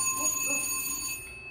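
An alarm bell rings in the launch control center of a Titan II missile silo as the big silo door slides open, a steady faint ringing tone that cuts off near the end, with no voices.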